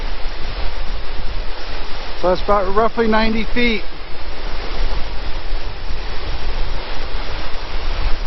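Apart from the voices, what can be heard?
waterfall, water rushing down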